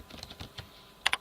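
Typing on a computer keyboard, a handful of soft, close key taps followed by two sharper, louder clicks at the end.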